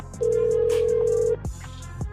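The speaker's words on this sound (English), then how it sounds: "Why is it still ringing?" Ringback tone on a call-in sports radio show line, a single steady electronic tone lasting about a second, loud and alone, followed by faint line noise and clicks.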